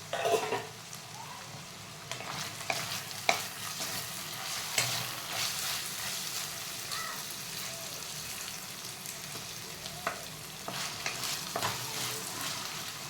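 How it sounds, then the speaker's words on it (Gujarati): Soaked sabudana (sago) is stirred in a frying pan with potatoes for khichdi, giving a steady soft sizzle with repeated scraping and clinking of a spoon against the pan, close and moderately loud. "હવે આપણે એનામાં સાબુદાણા એડ કરી દઈશું"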